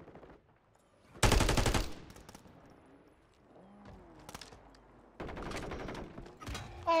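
Gunfire in the shooter Warzone III, a loud sharp burst of shots followed later by more rapid volleys and scattered distant pops, fairly quiet between shots with faint background ambience.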